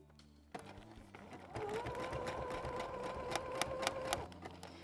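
A sewing machine stitches plastic fabric for a travel toiletry bag, its quick rhythmic whir running for a few seconds close up after a soft handling click, then stopping.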